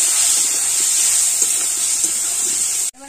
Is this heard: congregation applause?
no